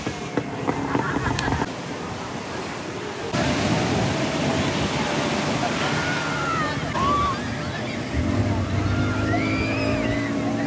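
On a boat ride on the sea at Shivrajpur beach, a steady wash of engine noise, wind and water runs throughout while people talk.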